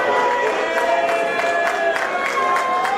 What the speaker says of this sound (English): Crowd showing their not much of appreciation for Wolf as they're trying to get Strickland back into this